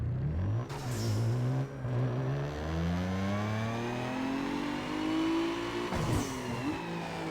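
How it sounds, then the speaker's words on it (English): A Mitsubishi 3000GT 3.0L twin turbo V6 in Need For Speed on a dyno run, the engine note climbing steadily through shifts to a high rev, loud and close, then dropping off abruptly near the end. "let's quickly do a dyno run"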